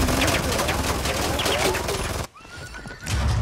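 Gunfire and bullets in a video game, a dense continuous barrage of rapid shots with a brief dip before it resumes, loud and close, with a voice speaking over it.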